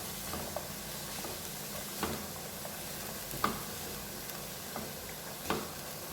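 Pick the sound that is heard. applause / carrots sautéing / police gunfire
carrots sautéing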